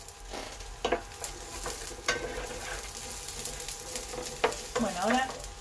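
Chopped onion dropped into a frying pan with garlic, a soft sizzle under scattered clinks and scrapes of utensils, with a faint squeaky sound near the end.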